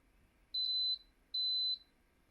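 A WaterCooker glass kettle with temperature control gives two short, clear, high-pitched electronic beeps, evenly spaced, over a near-silent background.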